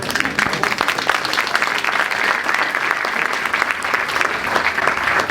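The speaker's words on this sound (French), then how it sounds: "Vous pouvez l'applaudir pour lui donner un peu de courage." An audience applauds a speaker taking the floor at a public talk on PFAS pollution south of Lyon, with dense, steady clapping filling the room for the whole stretch.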